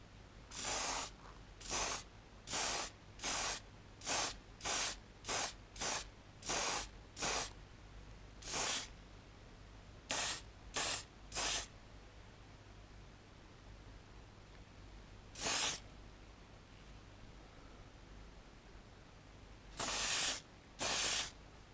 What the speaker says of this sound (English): You can see I've been spraying red here.